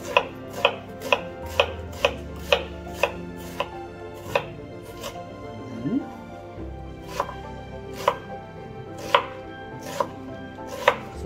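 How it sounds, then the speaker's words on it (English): A knife thinly slicing red onion on a board, crisp regular chopping strokes about twice a second, a short pause in the middle before the even rhythm resumes, close and clear with no talk. "I'm just going to quickly demonstrate how I cut the onion. I'm using red onion, so just cut it"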